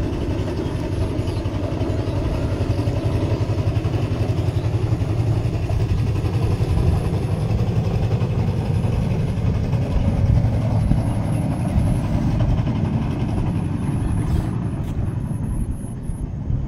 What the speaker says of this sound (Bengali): এদিকে ট্রলার যাচ্ছে,